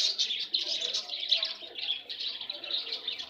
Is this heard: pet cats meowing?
no